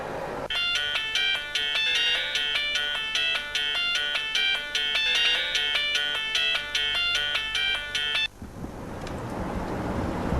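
A telephone rings with a repeating electronic melodic ringtone for about eight seconds, loud and alone, then cuts off into quiet room noise.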